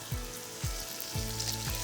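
Frozen stock dropped into a pot of beef stew, sizzling and bubbling steadily with soft popping bursts, close by and fairly quiet, no talking.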